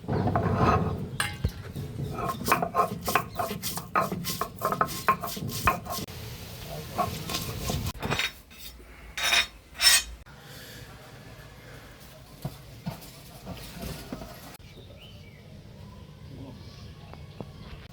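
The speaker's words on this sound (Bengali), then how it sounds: "এখন মাংস রান্না করার জন্য মশলা বেটে নিচ্ছি, আদা, ধনে, জিরে" Spices being ground by hand for mutton curry, ginger, coriander and cumin worked on a grinding stone, giving a close run of rhythmic scraping and knocking strokes that break off midway, followed by quieter scattered kitchen clatter.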